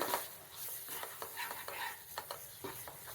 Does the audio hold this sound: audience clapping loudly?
no